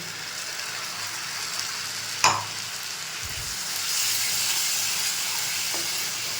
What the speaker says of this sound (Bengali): এবার আমি কাজু আর দই যে বাটাটা সেটা দিয়ে দিচ্ছি।